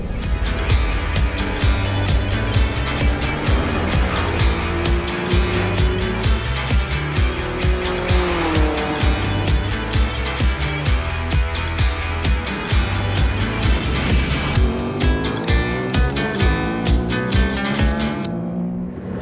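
A twin-cylinder Aprilia Tuono 660 Factory motorcycle pulls away, its engine note loud and close as it revs up through a steady, continuous throaty drone that climbs and falls with the throttle for the whole ride.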